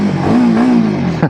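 Royal Enfield Himalayan 452 motorcycle revs hard, its exhaust booming loudly up close in a rising, steady roar that holds briefly before cutting off.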